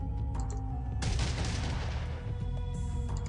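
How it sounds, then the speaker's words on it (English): Burst-fire gunshots from the Fallout 2 video game during a fight with radscorpions: a dense, loud rattle of rapid shots that kicks in sharply and holds for about two seconds, then tails off, with no talking. "Burst fire."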